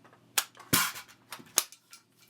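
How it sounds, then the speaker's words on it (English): A rifle's empty magazine is seated and then dropped with the magazine release button: a few sharp metallic clicks and clacks, close and fairly loud, spaced irregularly with one heavier clack near the middle. "Empty mag. Locks into place. Mag release."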